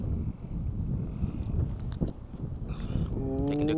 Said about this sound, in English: There's a little headwind.